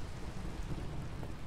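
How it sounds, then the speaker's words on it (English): Steady rain falling in the video game Minecraft, a dense continuous wash of patter and hiss with a low rumble underneath, fairly loud and unbroken for a brief moment. "Mainly because it's raining."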